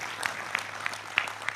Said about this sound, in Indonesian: Sekali lagi tepuk tangan untuk beliau.